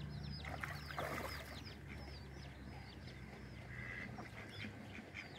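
Indian Runner ducks quack repeatedly in a steady chorus, with many short overlapping calls close by over a constant background hum, and no talking.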